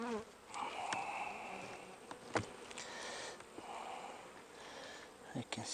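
A low buzz of honey bees drifts around an open nuc or package hive during an end-of-season inspection of frames of capped honey, faint and steady with a few sharp knocks and handling sounds.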